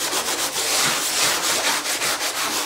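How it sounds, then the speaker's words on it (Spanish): Sandpaper rubs back and forth over a wooden picture frame with gilded gold-leaf edges, a loud, steady scratchy hiss pulsing in quick regular strokes with no talking. "Entonces, voy a lijarlo."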